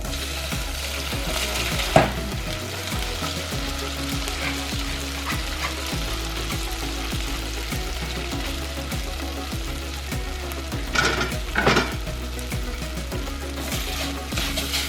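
Cooked couscous is tossed with butter in a hot pan, giving a steady, close sizzle throughout, with rhythmic scraping and stirring and a few louder clatters of the utensil against the pan.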